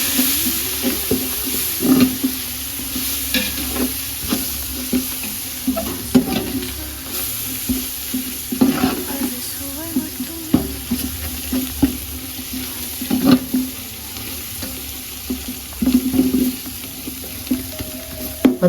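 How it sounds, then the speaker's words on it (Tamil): Mint and coriander leaves sautéing in a pan for mutton biryani, a bright ongoing sizzle broken by frequent close scraping and clinking stir strokes, no talking. "ஒரு கைப்பிடி புதினா, கொஞ்சம் கொத்தமல்லி, கொஞ்சம் வதக்கணும் ஒரு 5 நிமிஷம்."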